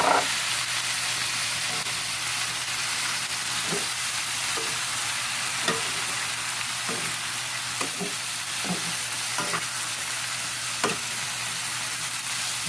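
Chicken for stew frying in a pan, a steady sizzle with periodic soft scrapes and knocks of stirring every second or so, close and moderately quiet, with no talking.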